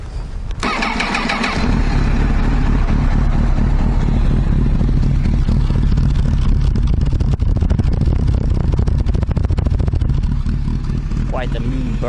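A Honda CBR 1000RR motorcycle cranks and fires up in neutral, then settles into a loud, steady burbling idle that runs on close by.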